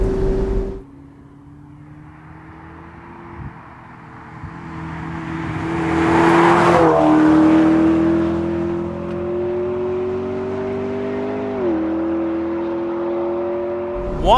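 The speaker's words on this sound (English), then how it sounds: "One thing this car is doing spectacularly is just floating down this road." A McLaren 12C sports car engine hums and rises in pitch as it accelerates, with a quick gear change and a steady whirring drone, loud and close.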